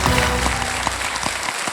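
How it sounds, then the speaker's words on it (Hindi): Dense, steady applause from a studio audience on a Hindi TV entertainment show, loud and close throughout with a few sharper claps standing out near the end. "तालियां।"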